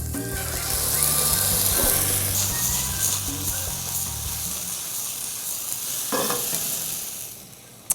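Onion and tomato sizzle loudly in a pan, with scraping stir sounds and a low rhythmic mechanical clatter early on, fading toward the end.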